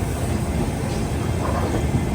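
Grand Trunk Express train rolling through Itarsi junction, a steady loud broadband rumble and rush of the moving train heard from on board, continuous without distinct clacks or talk.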